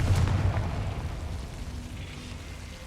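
Confringo, the fire spell in the video game Hogwarts Legacy, lands as a deep rumbling blast with a low booming impact, then a roaring tail that slowly fades.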